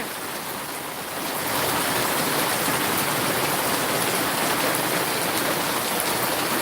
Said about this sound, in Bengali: বাতাসের গতিবেগ কমেছে বৃষ্টি এখনো পড়ছে